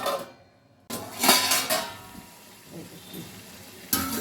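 A lid set down onto a pan of cooking chicken chorchori gives a sharp metallic clatter and a brief rattle, followed by lighter clinks. A voice speaks quietly under the kitchen sounds.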